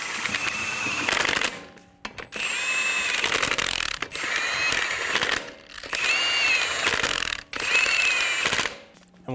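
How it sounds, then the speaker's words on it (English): A ratchet or power tool snugging down lug nuts on a 2007-2011 Toyota Camry wheel, with several loud, close rattling bursts separated by short pauses. "Snug down the lug nuts."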